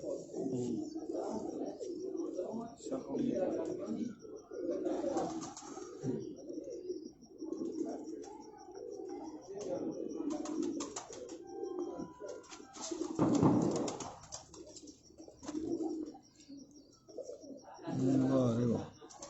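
Pigeons kept in a Rawalpindi loft, including a prize Sialkoti pigeon, cooing repeatedly at close range in soft rhythmic bursts, with a faint high continuous tone behind and occasional human speech.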